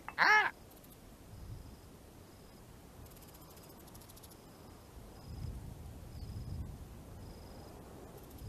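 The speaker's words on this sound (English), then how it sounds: "Whoops, you've woken up the bird." A single loud crow caw rings out near the start in a Quest 2 VR game, followed by quiet ambient background with faint rustling and a soft electronic tone.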